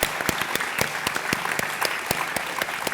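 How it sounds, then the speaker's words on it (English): A hackathon audience claps steadily, a dense patter of individual hand claps close by, with no voices over it. "Round of applause."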